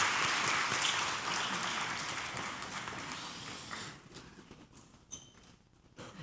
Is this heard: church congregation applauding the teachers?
yes